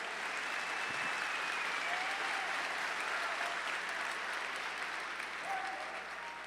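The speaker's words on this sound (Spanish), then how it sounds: "Denle un aplauso al Señor." A church congregation breaks into sustained applause during a worship service, a broad even wash of many hands clapping at moderate distance, steady for several seconds with faint voices mixed in.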